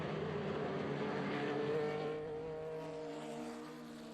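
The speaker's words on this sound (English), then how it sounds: "Good throaty sound to all of these cars" Race cars, including a Porsche, roar past one after another through Bishop with a throaty, droning engine note that peaks and then fades into the distance.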